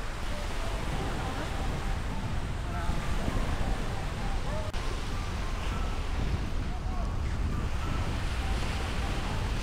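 Ocean waves and wind on a Boracay beach make a soft, continuous surf wash with gusty air, fairly faint and even from start to finish.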